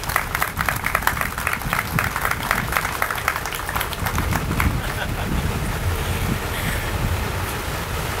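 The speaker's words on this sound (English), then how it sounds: "Come on, let's give them a round of applause." An outdoor crowd claps at a groundbreaking ceremony for a building project, scattered hands at first swelling into steady applause, with wind buffeting the microphone and a murmur of voices beneath.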